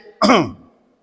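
A single short, harsh throat clearing to dislodge phlegm, close and loud, fading quickly into silence.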